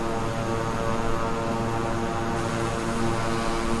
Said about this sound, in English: Caution, the Beechcraft King Air landing runway 5-right.